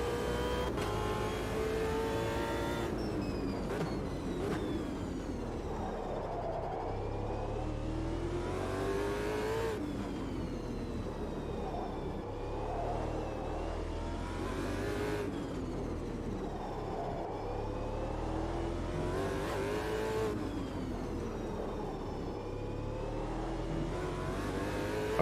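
Race car engine in Automobilista 2, revving high and dropping repeatedly through gear changes as the car is pushed around a track, loud and continuous with no talk over it.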